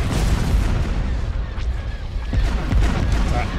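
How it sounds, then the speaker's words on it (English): Booming ion cannon fire and explosions rumble through a space battle in the Star Wars strategy game Thrawn's Revenge, with dense, heavy blasts overlapping one another. "Get those iron cannons firing."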